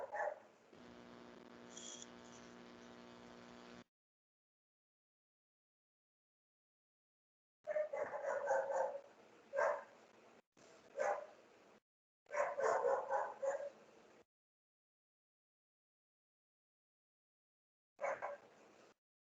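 A dog barks in several loud, close bursts separated by long silences, with a sustained yelping or howling stretch at the start.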